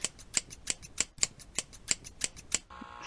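Rapid scissor snips in a barber video game, about ten crisp, evenly spaced metallic clicks over a few seconds, followed by a brief steady electronic tone at the end.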